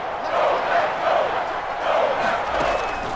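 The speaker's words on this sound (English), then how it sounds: "the crowd getting into it as we come up on a big 3rd down" Stadium crowd in Madden NFL 22 at a Steelers game, a loud sustained roar of cheering that swells in waves and rises ahead of a big third down.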